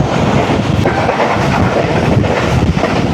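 Shalimar Express passenger train from Karachi rushing past at close range in Sindh, a loud, steady roar of rolling wheels and carriages with wind buffeting the microphone throughout.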